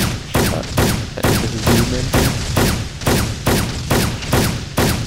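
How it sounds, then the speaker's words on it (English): Dense, rapid gunfire with booming blasts from an Arma 2 multiplayer battle, including tank fire, crackles in repeated bursts for several seconds, loud and close, with no talk over it. "we're being shot by tanks, Matt."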